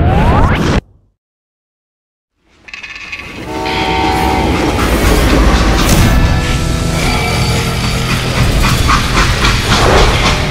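A moving freight train in the video game Call of Juarez Gunslinger rumbles loudly after a short silence, with steady rolling clatter, metallic squeals and a horn-like tone.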